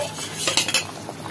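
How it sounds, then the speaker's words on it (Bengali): Spices for a fish roe curry being mixed in a pan, a brief burst of metal spoon clinks and scrapes against the pan over a faint sizzle, with no voices. "এগুলো দিয়ে আমি ভালো করে মিশিয়ে নিচ্ছি"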